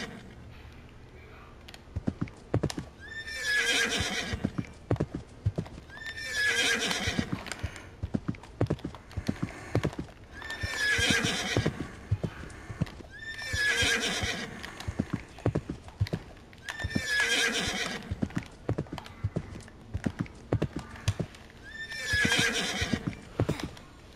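Rhythmic hoofbeats of a galloping horse in a Roblox video game run throughout, broken by repeated loud neighs and whinnies every few seconds.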